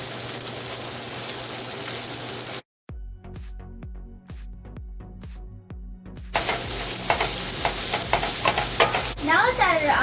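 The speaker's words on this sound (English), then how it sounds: "Now let's add the baked zucchini noodles." Baked zucchini noodles go into a hot pan over a high flame, bringing a loud sizzle and stirring, then a brief hush with scattered clinks before the frying roars back strongly.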